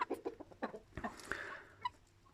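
An Indian breed rooster, one of seven kept in cages, giving several short close clucks and a brief squawk-like call over about two seconds, fairly quiet with no talking.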